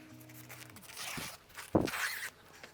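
Scissors cut through wedding dress skirt fabric on a table, close by. Two crisp snips come with rustling cloth in an otherwise quiet room.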